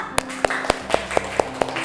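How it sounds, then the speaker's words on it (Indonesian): A school class claps for a group of students, seven or eight loud, evenly spaced claps in a steady rhythm over a low background hum. "Nah, tepuk tangan untuk kelompok"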